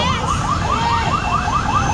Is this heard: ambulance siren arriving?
yes